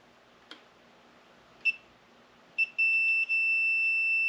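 A multimeter on continuity test lets out two short chirps as the probes touch, then a steady high-pitched beep that holds, briefly breaks and resumes, after a couple of faint clicks.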